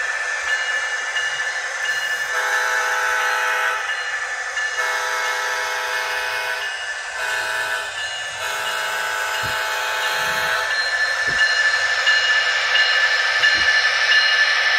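A model train locomotive backs up with its sound effects running: a continuous engine drone with whistle-like tones, loud and close, with a few clicks near the end and no voices.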